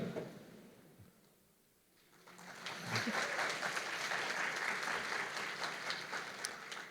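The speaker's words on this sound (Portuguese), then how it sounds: "Aplausos para a tia Vilma" Clapping from a crowd at a talk builds up after a quieter opening, then keeps going as steady, dense applause.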